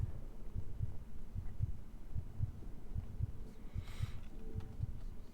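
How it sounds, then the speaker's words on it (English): A steady, low heartbeat thumps in a regular double-beat rhythm as a background sound effect in the exploration game Infra, with faint ambient hum and no speech. "I can start hearing a heartbeat in the background"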